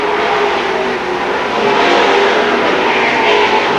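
The leading four race cars run nose to tail at Seekonk Speedway in 1984, a loud, unbroken wall of engine roar that builds slightly toward the end, with no speech.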